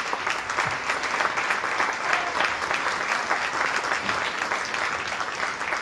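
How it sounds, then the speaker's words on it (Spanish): Steady applause from an audience at a book presentation, thanking a doctor; a dense, even wash of many hands clapping, sustained and fairly loud throughout. "Yo quiero pedirle un aplauso"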